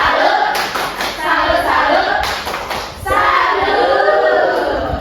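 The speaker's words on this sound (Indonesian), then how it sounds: "Oke, kita berikan tepuk salut." Elementary classroom pupils perform the rhythmic 'tepuk salut' clap, loud nearby bursts of group clapping in patterned phrases separated by a brief dip, with children's voices mixed in.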